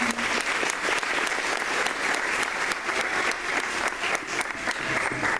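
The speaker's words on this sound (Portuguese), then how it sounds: "Vamos dar uma salva de palmas. Pode aplaudir bem forte." Church congregation applauding loudly and steadily, dense continuous clapping from a large crowd with no pauses.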